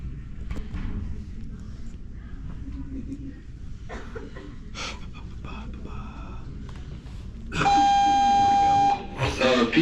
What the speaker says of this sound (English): Probably gonna sound the alarms early if they do.